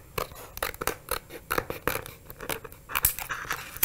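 Scissors snip repeatedly through craft material, trimming the excess away from a cut design; crisp close-up cuts in an irregular rhythm with no talking.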